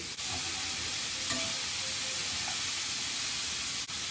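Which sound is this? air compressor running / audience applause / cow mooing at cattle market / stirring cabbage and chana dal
stirring cabbage and chana dal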